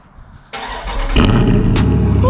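A 2018 Dodge Charger Daytona 392 V8 engine cranks and fires up at close range, settling into a loud, rumbling idle with a brief rev near the end.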